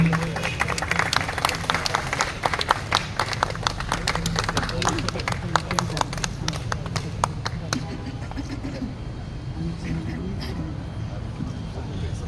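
An audience at a sports award ceremony in Bangladesh applauds the trophy champions, a dense, steady burst of many hands clapping that carries on for several seconds and slowly thins toward the end, with voices mixed in.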